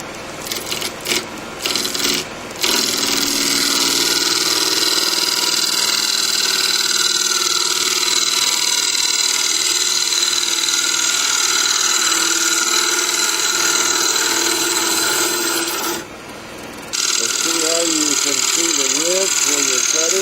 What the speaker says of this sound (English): let's try to increase our lathe speed again